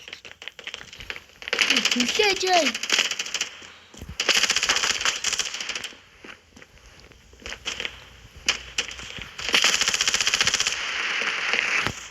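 Rapid automatic gunfire from the mobile shooter game Standoff crackles in loud repeated bursts separated by short pauses, with a player talking in between.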